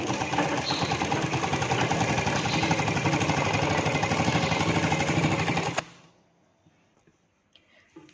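A sewing machine stitches a Punjabi dress with a lining, running loud and steady with a dense mechanical rattle for about six seconds before stopping abruptly, leaving near silence with faint handling noises.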